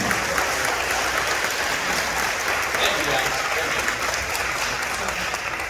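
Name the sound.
audience applause for sixth grade band students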